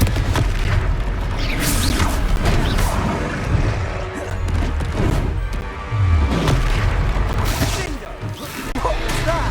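Heavy booming blasts and crashes from the Confringo blasting spell during a battle in the video game Hogwarts Legacy fill the whole stretch loudly over a dense rumbling backdrop, with voices briefly heard.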